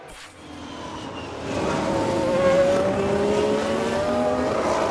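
A Formula 1 car engine in a racing video game screams at high revs, its pitch sweeping as the car runs wide, with a faint tire squeal under the steady roar.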